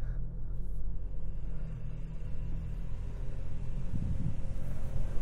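A 2022 Toyota Tacoma SR5 Trail 4x4 pickup truck at full throttle in sport mode, first gear, four high, with a loud, steady low engine rumble that swells slightly toward the end, no talk.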